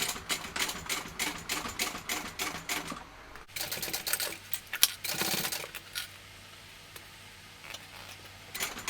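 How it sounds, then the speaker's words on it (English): Sewing machine basting along the straight edges of fabric, a rapid mechanical ticking stitch that runs in bursts with brief pauses, close and moderately loud, fading to a quieter hum near the end. "I'm just going to baste along here on both edges"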